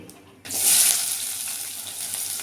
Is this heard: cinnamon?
yes